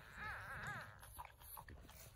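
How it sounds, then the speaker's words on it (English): Newborn French bulldog puppies whimper in a few faint, high rising squeaks at close range, followed by soft rustling and small movement sounds. "we got four beautiful puppies here."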